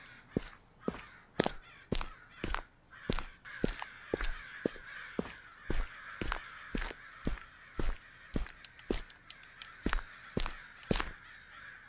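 A steady string of loud crow caws from the horror game Okaeri, around twenty sharp calls spaced almost evenly, close and alone with no voices.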